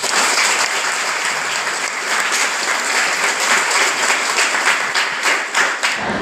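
An audience at a spiritual discourse applauds in a dense, loud, sustained burst of clapping that lasts about six seconds before fading out at the end.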